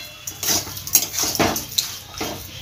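A spoon stirring sugar into bottle gourd and spinach greens in a pot, giving several distinct clinks and scrapes against the metal in an uneven rhythm, close and fairly loud, with no talking.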